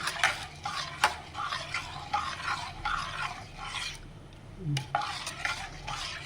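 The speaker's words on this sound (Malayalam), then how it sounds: "തേങ്ങാപ്പാൽ ചേർത്ത് കൊടുത്തിട്ട് നല്ലോണം മിക്സ് ചെയ്യാം." A spoon repeatedly scrapes and stirs through a pot of lentil and tomato curry as coconut milk is mixed in, giving close, rhythmic strokes with a soft simmering hiss underneath.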